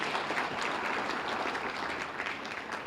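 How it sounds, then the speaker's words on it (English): Applause for an honoree at an awards ceremony, a continuous, even clatter of many hands, soft and somewhat distant, unbroken by speech. "one last final hand of applause for Jack."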